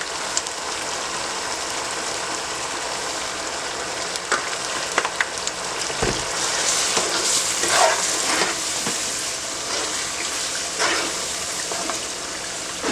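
Onion sauce, seasoned with stock cube and salt, sizzles and fries steadily in a pan, a dense continuous crackle with occasional louder pops, close and alone without talk.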